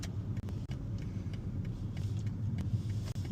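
A learner driver's car rolls through a complex British roundabout during a driving lesson, its engine a steady low rumble throughout with faint interior rattles and no talk.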